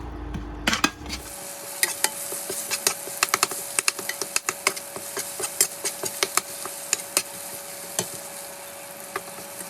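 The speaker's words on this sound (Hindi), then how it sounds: "अभी इसको हम फ्राई कर लेंगे इस तेल में, जिस तेल में हमने प्याज जो है वो फ्राई किए थे।" Soaked Kashmiri red chillies fry in oil left from frying onions in a pan on an induction cooktop, a steady close sizzle broken by sharp clinks and scrapes of stirring, with no talking.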